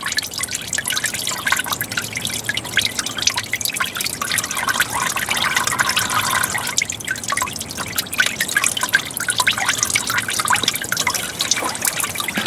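CVT fluid from a 2011 Nissan Altima 2.5 SL streams steadily into a drain pan outdoors, a continuous dense pattering trickle lasting throughout, close and fairly loud with no talk.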